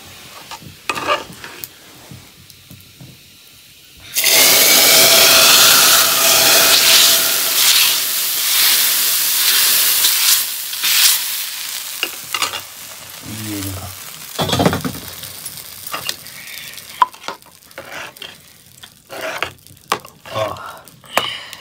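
A sudden loud sizzle as tempering spices hit hot oil for kandali saag, hissing strongly for several seconds and then fading into crackles and stirring.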